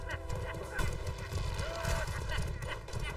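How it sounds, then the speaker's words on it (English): In the medieval combat game Mordhau, a horse's hooves clip-clop rapidly while a whinny rises midway, mixed with battle noise and players talking over it. "There's a horse just fucking these guys up."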